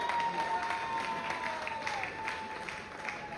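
Moderate crowd applause at a gala evening in a Hilton Hotel, a soft, even patter of many hands heard from some distance, with a faint steady tone running beneath it.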